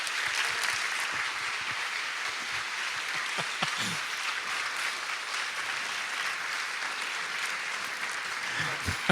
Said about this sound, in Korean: 다시 한번 우리 박원순 서울시장님과 또 서울대 조국 교수님, 정신과 전문의 정혜신 박사님을 큰 박수로 모시겠습니다